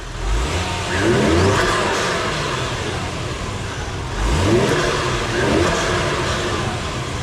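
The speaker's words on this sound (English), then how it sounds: "some turbo noises" A Toyota 1JZ-GTE turbocharged engine fitted with a new intake revs twice, each rise climbing to a loud, close roar with turbo whoosh before easing back to a rumbling idle.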